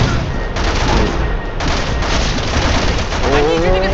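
Gunshots in the survival horror game Resident Evil 6, a loud continuous barrage of blasts and crackling impacts with a brief pause midway, and a voice rising briefly near the end.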